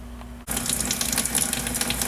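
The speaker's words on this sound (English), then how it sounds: "Now we got some water running," Water runs from a tap for mixing a scenery coating batch, switching on abruptly into a steady, loud, hissing gush that continues without talk.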